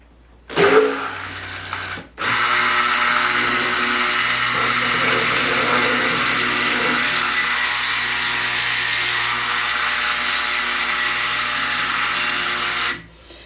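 A stick blender whirs steadily for about eleven seconds as it mixes aloe vera and lye into oils for aloe vera apple soap, starting after a short burst and stopping abruptly at the end.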